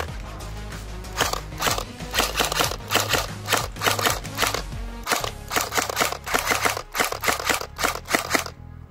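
Electric blowback JG SIG 552 airsoft rifle firing BBs in rapid full-auto bursts, a loud, close, sharp mechanical rattle of repeated shots with brief pauses between strings.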